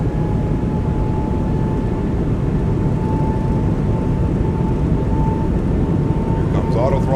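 Airbus A220 jet engines in a flight simulator hold a steady, loud broadband roar with a faint tonal whine as thrust builds toward takeoff power, continuous throughout.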